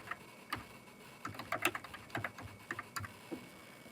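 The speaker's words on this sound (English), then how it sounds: "type in the term" Someone types a search term on a computer keyboard, sending out a quick, uneven run of light clicking keystrokes that cluster in bursts at close range in a quiet room.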